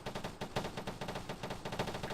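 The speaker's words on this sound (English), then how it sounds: "we can hear the gunfire from all sides, but mainly from inside" Rapid automatic gunfire in the military video game Arma 3, a fast rhythmic stream of shots with overlapping bursts in a battle raging on all sides, moderately loud and continuous for a couple of seconds.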